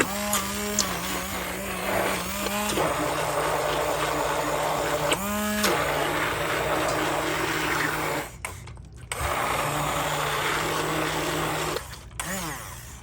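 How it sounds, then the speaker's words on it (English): A handheld electric mixer whirring in a can of evaporated milk, running steadily with short pitch changes, brief stops and restarts near the end. "this little handheld to get my milk going in here"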